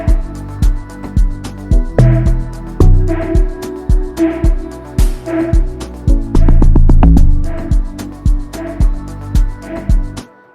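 Amapiano-style synth run through FL Studio's Citrus vocoder on its 'machine' carrier preset, played as punchy rhythmic chords over a thumping beat and bass, steady and loud throughout with no voices.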